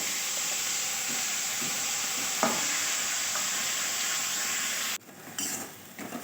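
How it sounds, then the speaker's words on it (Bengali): Steady loud sizzle of a pan on the stove with ground banana flower paste added, frying hiss continuing before a sudden drop to quieter stirring and spluttering near the end. "এবার দিয়ে দেবো বেটে রাখা মোচা"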